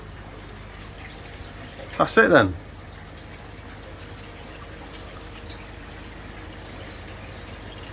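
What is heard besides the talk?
pond water agitated by aeration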